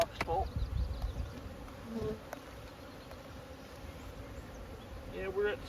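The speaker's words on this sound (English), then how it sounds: "Looking at the bees pouring out, we've probably got a box full." Honeybees pour out of an opened hive box while brood chambers are added, a steady buzzing drone close by with a few louder passes and brief handling knocks.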